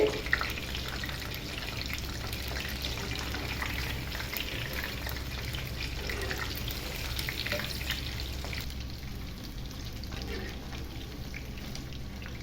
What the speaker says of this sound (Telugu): చూడండి ఈ విధంగా చక్కగా కలుపుకుంటూ ఉండాలండి, మాడిపోకుండా మంచి రంగు వచ్చే వరకు బాగా వేగనివ్వాలి.